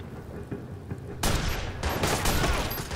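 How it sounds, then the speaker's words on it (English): Gunfire erupts in the Watch Dogs video game during a shootout, a sudden loud burst of overlapping shots and impacts that continues densely after a quiet lead-in. "Having to shoot out now."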